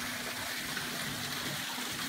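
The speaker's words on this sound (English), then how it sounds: "This is our private pool with a little waterfall." A small waterfall pours steadily into a private villa pool in Bali, giving a continuous, even splashing wash with a faint low hum beneath and no talking.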